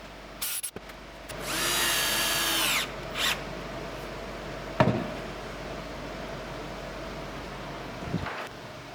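A power drill drives screws into a laminated, epoxy-glued boat timber, with one loud sustained whir of about a second and a half, then brief short bursts, close up in a quiet workshop.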